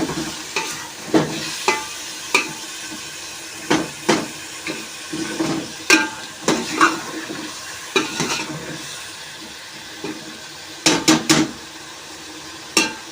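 Potatoes for aloo bhujiya frying and being stirred in a pot in a village kitchen, a steady sizzle broken by repeated scraping strokes of the spoon at an uneven rhythm, close and fairly loud, with no talking.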